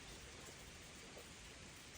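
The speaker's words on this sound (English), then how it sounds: "God's blessing us with some rain right now" Rain falls on a barn during a sheep-hay discussion, a soft, even hiss of steady rainfall with no distinct drops, faint and continuous, with nobody talking.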